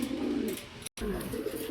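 King pigeons coo in low, soft rumbling phrases close by, two bouts separated by a brief gap, under faint background noise.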